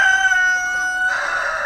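A single loud, close crow from a roughly 4.5 kg Bengal Tiger breed rooster, drawn out and ending in a raspy finish.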